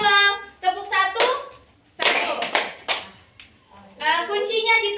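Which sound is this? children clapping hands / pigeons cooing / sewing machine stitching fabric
children clapping hands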